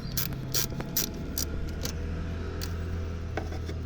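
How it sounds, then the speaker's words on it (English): A 10mm socket ratchet loosening the negative battery terminal on a Hyundai i10, close-up: quick bursts of metallic ratchet clicking repeated several times over a low steady background hum, with no talk. "Start off by getting the 10mm, and we're going to loosen up the negative terminal first."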